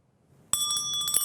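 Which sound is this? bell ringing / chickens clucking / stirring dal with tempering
bell ringing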